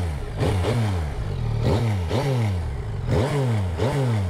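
A Yamaha XSR900 GP motorcycle fitted with an aftermarket exhaust and still carrying its catalytic converter is revved in a few sharp bursts, each rising and falling, loud and close, with no talking.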